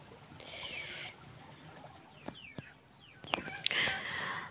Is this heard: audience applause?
no